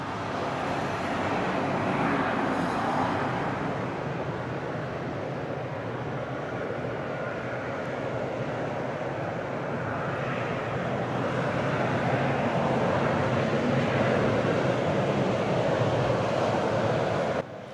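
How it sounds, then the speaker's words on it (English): Road traffic along the Great Ocean Road at Apollo Bay, a continuous broad roar of passing vehicles blended with the surge of nearby ocean waves, steady and fairly loud throughout. "there is a little bit of traffic noise as well"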